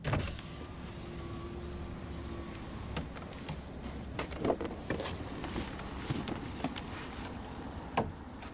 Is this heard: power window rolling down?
yes